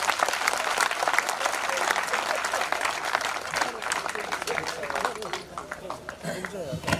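An audience at a public address claps together in a sustained burst that fades toward the end, while a speaker's voice carries over the clapping.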